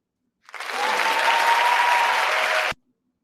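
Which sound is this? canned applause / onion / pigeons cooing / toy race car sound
canned applause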